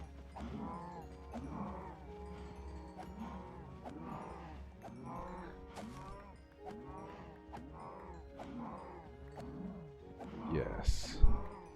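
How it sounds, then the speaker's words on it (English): Cattle mooing on a video game farm, several low moos recurring steadily through the scene with a louder burst near the end, while someone talks over them. "There are quite a few cows."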